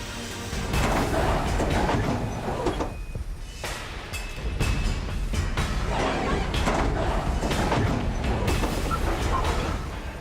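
Heavy 3,500-horsepower diesel engines of a railway sleeper-replacement machine start up, rumbling and roaring steadily, with a brief dip before the noise builds again into a continuous, loud mechanical drone.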